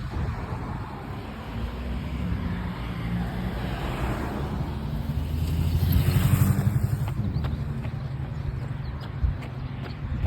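Cars on a neighborhood road swell past one after another, a broad whoosh rising and fading as a vehicle passes close, over steady traffic hum.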